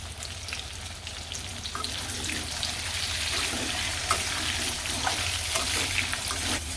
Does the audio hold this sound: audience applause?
no